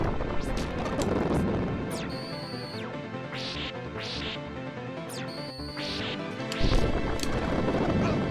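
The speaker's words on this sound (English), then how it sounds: "that was just the sound of Dracula summoning the goddamn fires" Dracula summons fires in a video game: repeated crashing impacts and whooshing bursts over a dense, loud game soundscape with rising tonal sweeps, steady throughout.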